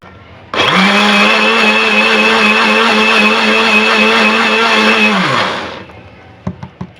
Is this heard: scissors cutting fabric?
no